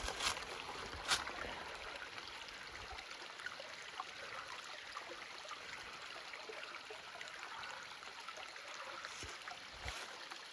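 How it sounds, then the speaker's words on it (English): A spring-fed creek among mossy woods flows and trickles in a steady, faint, continuous wash of water, with no talking over it. "This creek is clean enough to drink out of."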